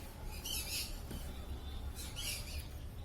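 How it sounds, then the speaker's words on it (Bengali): Java sparrows at an outdoor bird market chirp and squawk in short high bursts, several overlapping, against a steady low background hum with no talking. "সুন্দর সুন্দর জাবা পাখিগুলো দেখতে পাচ্ছেন গড়িয়া পাখির হাটে"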